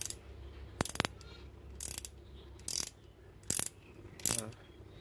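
American Tool ring-and-open-end ratcheting combination wrench clicking as it tightens, several short sharp ratchet bursts spaced about a second apart, close and fairly quiet against a low background hum.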